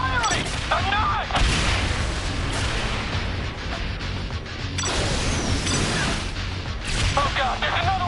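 Gunfire in the video game Saints Row The Third, heavy repeated bursts and booming impacts filling the scene, with someone talking over the shooting.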